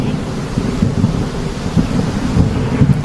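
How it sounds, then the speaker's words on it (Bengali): Loud, deep rumbling thunder rolls continuously over a roar of heavy rain and wind, with low booming swells throughout. "হ্যাঁ গো সত্যি কি জোরে জোরে মেঘ ডাকছে"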